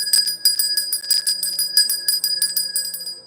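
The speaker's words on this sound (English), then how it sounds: "All right, so I'm gonna ring my bell." A small hand bell rung continuously for a few seconds, a bright rapid jangle of repeated strikes, close and loud with no talk over it.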